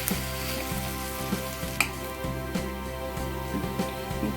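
Spiced potato filling with chili powder is mixed in a hot pan, a steady sizzle under a low repeating mechanical hum, with scattered scrapes and one sharper knock of the spoon.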